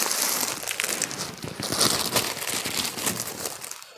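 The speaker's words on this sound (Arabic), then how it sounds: "اللي هو كيس التلاجة" A plastic freezer bag crinkles and rustles steadily for several seconds, close and moderately loud, while being handled during meat preparation for quick homemade pastrami.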